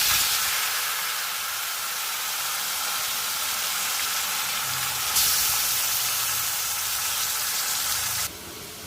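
Boiled taro greens drop into a hot wok with cumin, setting off a steady, loud sizzle and hiss that runs throughout, with a brief surge midway and a slight drop near the end.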